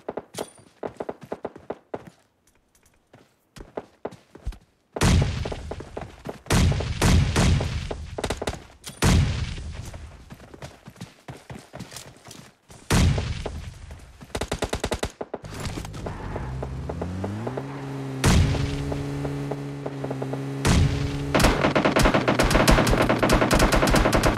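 M416 fire with a 6x scope in a PUBG esports match, loud sustained automatic bursts and sprays broken by brief pauses, with scattered thuds and other gunfire across a long stretch and no voices.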